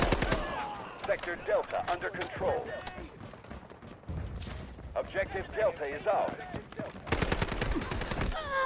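Shotgun gunfire in Delta Force: sharp, loud blasts come in clusters of rapid reports, mixed with footsteps and shouted talk from players.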